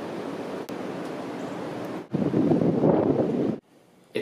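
Wind buffets a camera microphone on a cold, rainy day, producing loud, close rumbling gusts that swell and drop out abruptly, with a brief lull near the end.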